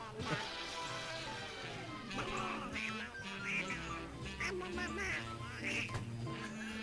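A voice imitates a Donald Duck–style quack during a Holdfast: Nations at War online match, with a run of nasal, squawky, harmonic-rich bursts close to the mic, mixed over game noise and chatter.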